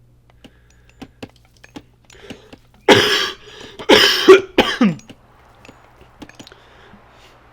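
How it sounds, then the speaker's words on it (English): A sick player coaching an Age of Mythology match as Odin lets out a few harsh coughs in a short burst, close and loud, with scattered keyboard clicks and mouse taps before and after and a brief spoken word. "Sorry for coughing, I'm still sick."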